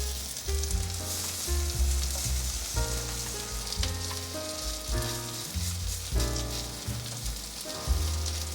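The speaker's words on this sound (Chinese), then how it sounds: "先让它煎煎" A sweet potato and carrot patty sizzles steadily as it pan-fries in a flat pan, a close, continuous crackle that sits under gentle background music.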